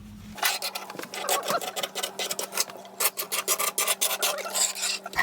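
A scraper rasping steadily over the rim of an oven hob aperture, clearing old sealing residue from an LPG hob opening; close, busy scratching strokes in an uneven rhythm, with no talk.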